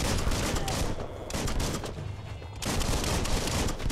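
Gunfire in the Biomutant video game comes as loud, rapid clusters of shots in two dense bursts separated by a brief quieter gap, close and harsh, with no clear talk over it.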